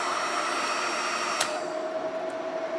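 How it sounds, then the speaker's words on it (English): Cooling fan of a Redodo 12V 2000W pure sine wave inverter whirring steadily at close range, a soft even hiss with a brief click partway through, no voices. "And you can hear the fan on the Redodo is on right now"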